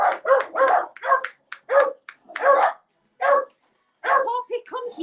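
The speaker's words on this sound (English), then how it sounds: "It was a huge dog that would maul them and they're barking like that." Dogs barking in a home: a rapid run of sharp, loud barks close by, coming in bursts with brief gaps, the last few trailing into yips.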